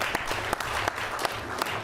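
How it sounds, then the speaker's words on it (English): Applause from a small school audience at a school board meeting, a steady dense clatter of hands with a few sharper claps standing out, fairly close and continuous throughout. "So give yourselves a round of applause."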